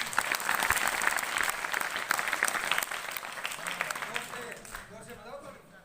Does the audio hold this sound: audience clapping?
yes